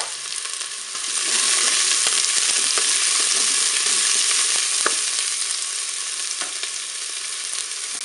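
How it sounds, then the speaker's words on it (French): Onions brown in hot oil inside a preheated Cookeo multicooker, a dense steady sizzle that rises after a quieter first second and carries on with faint scattered clicks. "je vais pouvoir faire dorer mes oignons."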